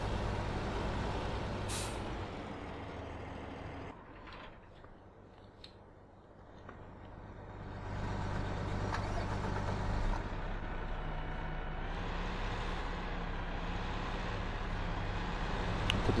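A truck with air brakes in Farming Simulator 2015, its engine rumbling low and steady with a sharp hiss of brake air near the start and a dip in engine noise midway.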